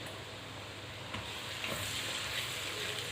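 Steady, even sizzling of tomatoes frying with whole spices over high heat for a khara masala dal mash, with soft stirring scrapes and no voices.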